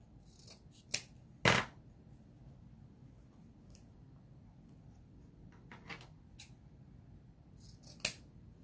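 Scissors snip through ribbon ends to cut a dovetail finish, giving a few quiet, separate crisp snips spread across a hushed room, with one longer cut standing out among them.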